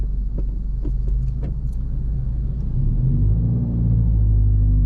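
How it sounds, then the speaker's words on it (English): A 2022 Subaru WRX engine rumbles and hums up close, intake and turbo audible, building slightly toward the end, with faint rattles and clinks over the steady throb. "you guys can hear the intake, hear the turbo"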